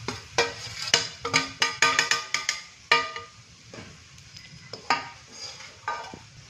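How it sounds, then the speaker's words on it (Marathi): Grated coconut roasting in ghee in a kadai over a gas flame, heard as a quick run of sharp scraping and clinking strokes from stirring, then sparser knocks, with a faint sizzle underneath and no talking. "आता हे खोबरं आपण टाकून घेऊया कढईमध्ये।"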